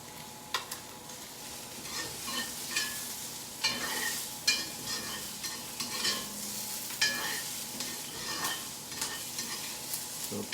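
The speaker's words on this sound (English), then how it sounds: "Sizzling, you want to make sure you maintain that sizzling" Peppers stir-fry in a hot dry pan for chow mein, a steady close sizzle broken by scraping, clacking stirring strokes, with no voices.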